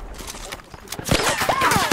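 Gunfire in a military shooter video game set on an Al Basrah map, a few sharp close shots in quick succession along with other game effects and a voice in the background.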